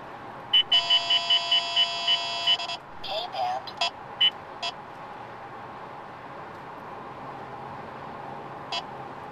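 An Escort radar detector chirps out a rapid run of evenly spaced electronic alert beeps while driving past a traffic sensor, followed by a few scattered shorter tones over steady road and cabin noise.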